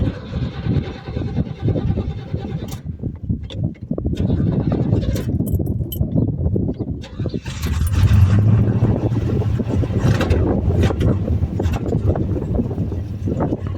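A 1973 Chevy C10 pickup engine cranks and catches, settling into a steady, loud idle with heavy low rumble and wind buffeting the microphone.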